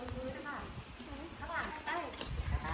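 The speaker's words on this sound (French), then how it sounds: "Visiblement, il y a plusieurs poneys." Faint hoof clip-clops from ponies on a beach outing at Lipa Noi, Koh Samui, sound in a loose rhythm under ongoing speech.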